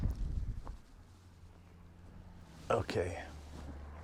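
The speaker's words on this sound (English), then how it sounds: "It's very windy." Strong wind gusting at an exposed Badlands viewpoint, a low rumbling roar against the microphone with a louder buffet near the end, while a person speaks briefly over it.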